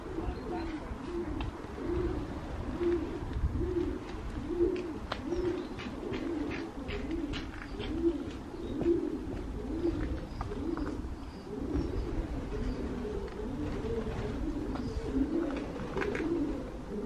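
Feral pigeons nesting inside a disused Cornish tin mine shaft coo in steady, overlapping rolling phrases, the sound echoing and amplified by the shaft, continuous and moderately near throughout.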